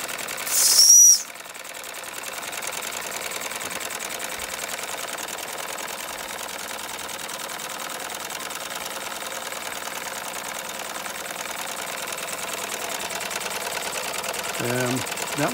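Four Doll & Co 510 model steam engines run together, giving a steady, even mechanical chatter that holds at a constant level throughout, preceded by a short sharp hiss at the start.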